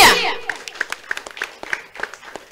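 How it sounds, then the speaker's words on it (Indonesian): Applause from a festival talk-show audience, starting with a loud burst mixed with cheering voices, then settling into scattered, distinct hand claps that ring out unevenly. "beri tepuk tangan yang meriah"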